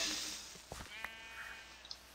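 A single sheep in the Minecraft video game gives a short, faint bleat against quiet background, followed by a couple of small soft clicks.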